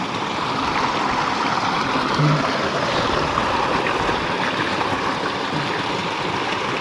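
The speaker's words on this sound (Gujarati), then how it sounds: "પેલી ઘઉંમાં અત્યારે પાણી ચાલુ છે" Irrigation water pours into a wheat field with a continuous, close rushing and gurgling flow that stays even and loud from start to finish.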